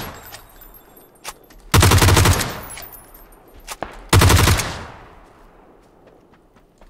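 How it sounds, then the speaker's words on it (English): Two loud bursts of rapid automatic gunfire in the battle royale game PUBG, each lasting under a second, separated by a pause with a few scattered single shots and quieter background game sounds. "So I'm shooting at someone."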